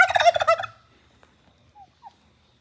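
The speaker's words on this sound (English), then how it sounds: "Good morning, turkeys." A turkey's loud, rattling gobble bursts out close by, then fades to near silence broken by a couple of faint, brief chirps.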